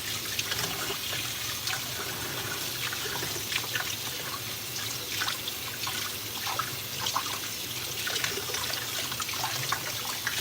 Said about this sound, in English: we rinse off the pan